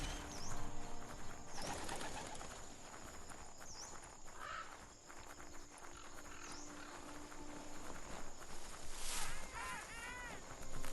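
Birds coo and call among the ambience of the video game Biomutant, with a few rising chirps scattered over a steady layer of wind, water and footsteps. A sweep of higher bird calls comes near the end.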